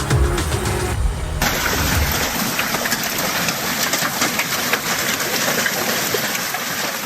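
Hail and wind batter an area during Tropical Storm Ophelia, a dense, loud, continuous rattle of hits with gusty rushing, after a brief heavier blast at the start.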